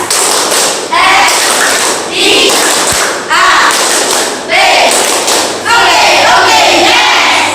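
Children doing a clapping routine in a classroom lesson, several rhythmic bursts of group clapping and chanting voices, loud and close, repeating in short phrases.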